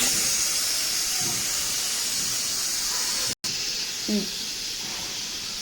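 Steady, loud steam hiss from a pressure cooker being opened after the gas is switched off, with potatoes and peas cooked inside. The broad hiss runs continuously, with one brief dropout and a faint clink partway through.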